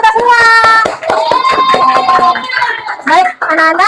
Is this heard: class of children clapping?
yes